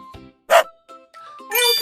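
A dog gives a single short, loud bark, with a faint chime-like jingle toward the end and a murmur like soft speech around it.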